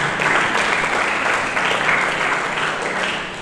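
Loud, dense applause from a church congregation during a sermon, steady clapping that fills the room and fades slightly toward the end.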